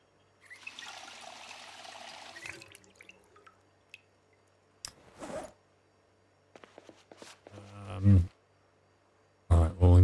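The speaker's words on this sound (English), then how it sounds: "Let's fill up our water" Water filling in the Project Zomboid video game, heard as a long hissing trickle and later a short burst of liquid pouring, with scattered clicks and interface sounds between.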